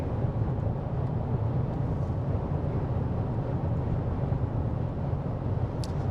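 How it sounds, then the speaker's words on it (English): Strong wind roars outdoors during a storm chase, a steady, loud rumbling buffet that stays constant throughout with no voices. "besides the wind. Very windy."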